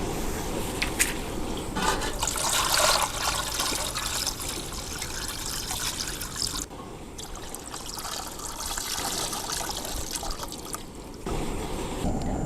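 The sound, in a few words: washing raw chicken in water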